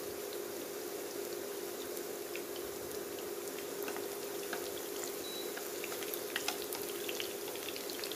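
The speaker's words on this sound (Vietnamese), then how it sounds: "Mình chiên vậy cái nấm của mình nó thơm." Shiitake mushrooms fry in a pan with a steady, dense sizzle and scattered crackling pops, close and continuous throughout, with no voices.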